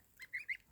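Geese and young goslings out on grass give three short honking calls, the last two louder, fairly close and faint overall with no talk.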